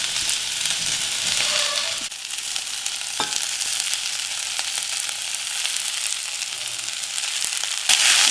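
Three kinds of capsicum frying in a hot pan for a chicken tikka bowl, making a loud, steady, close sizzle that runs unbroken throughout, with occasional clicks of stirring.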